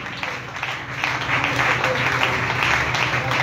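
A church congregation at a women's prayer service applauds in a dense, sustained wash of clapping that swells slightly and holds steady, with voices mixed in beneath it.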